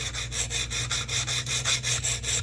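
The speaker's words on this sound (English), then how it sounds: "on the very end of it whenever you're sharpening on the tip" A Kizer Begleiter knife blade tip sharpened on a stone, a steady rhythmic back-and-forth rasp with about a dozen even strokes, close and alone.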